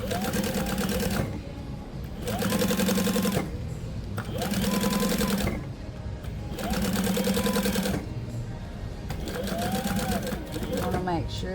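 A sewing machine stitching through folded fabric binding in repeated bursts of rapid mechanical whirring, about five runs with short pauses between them, close and loud, with a voice speaking over it.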